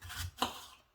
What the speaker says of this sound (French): On va les couper comme ça.